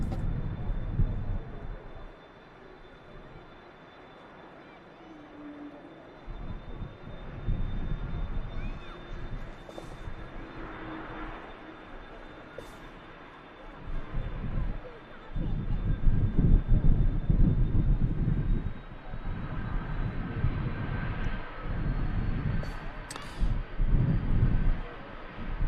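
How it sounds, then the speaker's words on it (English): Air France Airbus A220 airliner coming in to land at Manchester Airport on a windy day, a steady, fairly distant jet roar that swells and fades with gusts of wind buffeting the microphone. "Air France Airbus A220 coming in from Paris Charles de Gaulle Airport."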